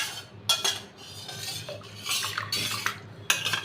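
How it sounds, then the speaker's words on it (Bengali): Rice is added to a pot with a ladle in a kitchen, giving several brief scraping, rustling clinks of metal on the pot, quiet and close, with no voices. "তো হাতায় করে করে চালগুলো দিয়ে দিলাম।"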